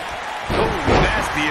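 A heavy body slam thuds in a WWE 2K19 wrestling match, followed by a swelling arena crowd roar, with a commentator talking over the noise.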